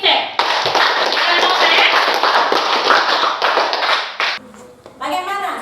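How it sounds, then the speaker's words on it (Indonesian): A classroom of students claps together for a classmate, a dense burst of applause lasting several seconds before fading into quieter room sounds and a voice. "Kita kasih tepuk tangan untuk Ince."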